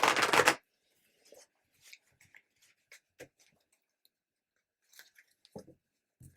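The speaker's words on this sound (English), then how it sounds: "I'm going to shuffle again" A deck of playing cards is shuffled in one quick riffling burst, followed by several faint, scattered card clicks and taps in an otherwise quiet room.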